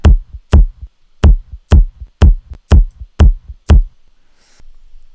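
A short, punchy pitched sample of a bite into a carrot, layered with a kick drum, hitting eight times in a steady groove, then a brief faint tail and quiet.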